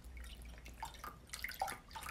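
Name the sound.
pouring chicken broth into an Instant Pot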